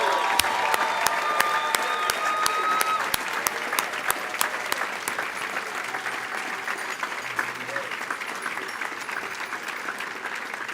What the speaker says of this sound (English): the loudest round of applause you've ever given right now for all of our honorees